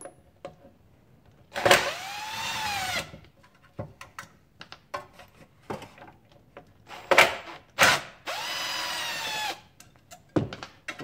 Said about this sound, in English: I usually just take a grinder then and grind the screw head off